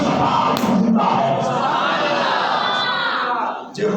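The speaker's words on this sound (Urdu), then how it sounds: "لوگ حسین زندہ باد دے نعرے، یزید مردہ باد دے نعرے" Large crowd chanting religious slogans honoring Hussain and condemning Yazid, loud massed voices shouting in rhythmic bursts with brief whistle-like accents, a short dip near the end before the chant surges again.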